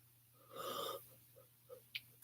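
A person yawns once, a drawn-out breathy, voiced exhale swelling and fading over about half a second, close and quiet over a low steady hum, followed by a few small mouth and breath sounds.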